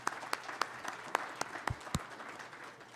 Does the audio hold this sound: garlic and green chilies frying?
no